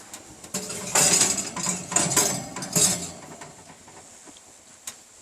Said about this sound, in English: Let me turn the baking dish around.